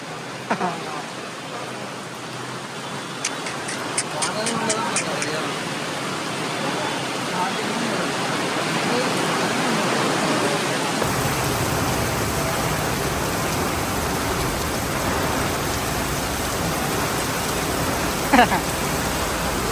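Steady hiss of rain falling at Arunachalam during the hill circuit walk, growing denser partway through, with a few faint clicks and distant background sounds.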